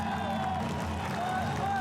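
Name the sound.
crowd cheering at a military parade in India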